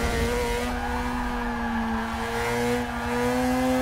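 VW Polo race car cornering in Forza Motorsport 6, a steady engine drone with tonal whine that dips and rises through the bend, loud and continuous with no talk.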